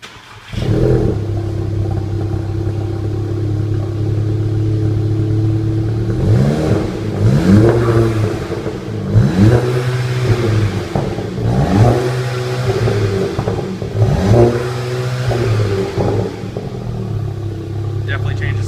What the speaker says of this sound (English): If you want to see a cold start, we'll get it all fired up for you.